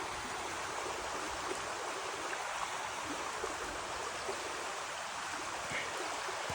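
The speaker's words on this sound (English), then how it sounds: "Nice little stream." A small stream flows steadily through woods, a soft continuous babble and trickle of water, faint and unbroken.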